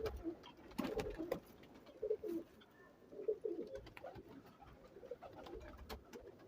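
Pigeons coo softly in repeated bursts on a rooftop loft, the low throaty calls rising and fading every second or two at moderate distance, with no talk over them.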